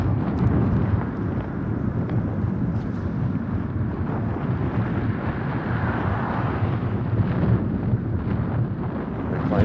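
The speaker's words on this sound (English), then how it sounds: "Crosswind right now." Strong crosswind buffets the microphone during a long uphill bicycle climb on barren hills along the Pacific Coast, a steady loud roar of blustery noise lasting throughout.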